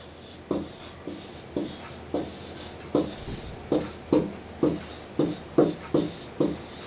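Pen strokes scratch across paper while a Hebrew word is written by hand, about a dozen short distinct scrapes in an uneven rhythm, close and fairly quiet with no talking.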